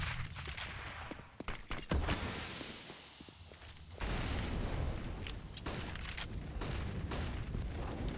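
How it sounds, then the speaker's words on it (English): Grenades and utility thrown during a professional Counter-Strike match on the Inferno map, heard as a cluster of sharp pops and bursts early on, then a deep rumbling explosion wash that swells and lingers, fairly quiet overall. "Lots of nades used to take top mid."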